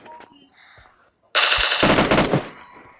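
Rapid automatic gunfire from the video game PUBG Mobile erupts after a quiet moment, a loud, dense burst of shots lasting over a second before fading.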